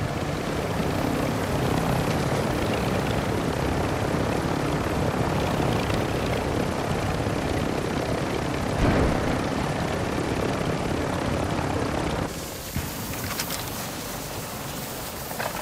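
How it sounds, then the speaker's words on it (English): A loud video game helicopter drones and thrums steadily throughout, its rotor noise dipping slightly near the end. "he's going to hit the helicopter."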